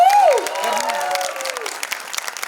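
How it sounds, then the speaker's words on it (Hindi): An audience at a music media premiere applauds steadily as guests walk onto the stage, with dense clapping and a short sliding tone at the start, and a voice speaking briefly over it. "Keep clapping till they get up on stage."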